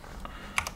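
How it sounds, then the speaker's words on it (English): A computer keyboard as a password is typed, heard as a handful of quiet, quick key clicks, the last two sharper and louder, with no talking. "for the password, I'm going to actually type a password"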